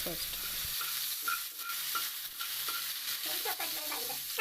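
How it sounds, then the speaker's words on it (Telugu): Curry leaves fry in a little oil in a pan, making a quiet, crackling sizzle with scattered pops and scraping stirs. A brief spoken word comes near the start. "ఆయిల్ అంతా వంచేసి కొద్దిగా ఉంచుకొని అందులో కరివేపాకు వేసి ఫ్రై చేయాలి."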